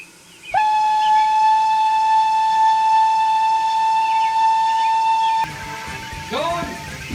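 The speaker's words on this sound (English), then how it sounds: "maybe if I whistle loud enough, I can get John over here to bank us." A single long, loud steam whistle blows with a steady, pure tone for about five seconds and then cuts off, leaving a lower hiss and rumble of steam behind.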